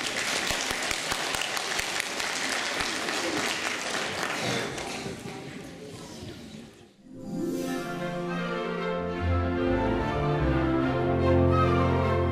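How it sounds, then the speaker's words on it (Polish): Sustained applause from the audience at a children's ballet school performance fills the first half and then fades, giving way to music that starts up as the clapping dies away. "Wielkie brawa."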